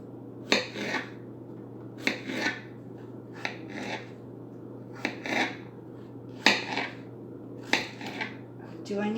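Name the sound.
knife cutting pickles into small chunks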